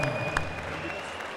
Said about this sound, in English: let's have a great round of applause for a exciting contest